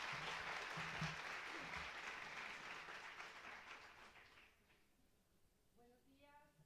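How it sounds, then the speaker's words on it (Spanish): An audience at a talk welcomes its speaker with sustained applause, dense clapping that fades over several seconds, followed by quiet room tone and faint voices. "por favor, den un aplauso a nuestra conferencista"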